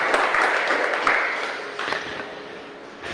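A congregation at a Spanish-language church service claps together, a dense burst of applause that gradually fades over about three seconds.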